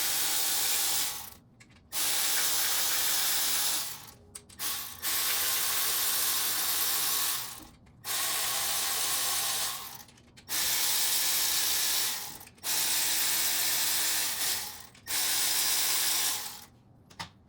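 Repeated bursts of a harsh, high whirring from a power tool tightening new hardware during a window regulator replacement on a 1999 Pontiac Grand Prix, each running a couple of seconds with short pauses between, close and loud.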